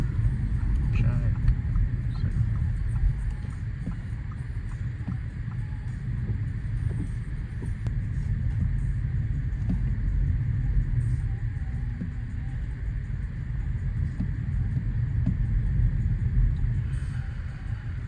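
A car drives home through UK rush hour traffic in horrible weather, with a steady low engine and road rumble filling the cabin continuously, unbroken and even in level throughout.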